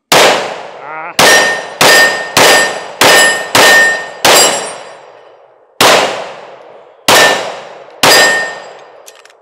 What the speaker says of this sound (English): So this is a fine shooting pistol.